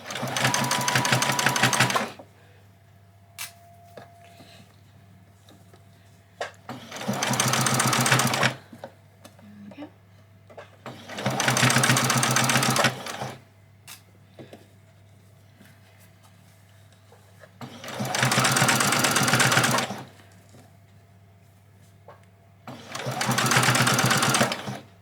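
A sewing machine stitches fabric for an apron in five loud, steady bursts of rapid mechanical whirring. Short quiet pauses separate the bursts.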